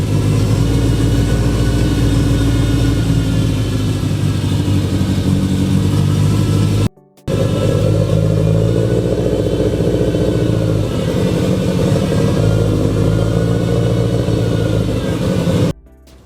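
A freshly rebuilt car engine runs loud and steady with a rough, untuned idle and uneven rumble, smoke burning off the headers; it cuts out briefly mid-run and then keeps running without any talk.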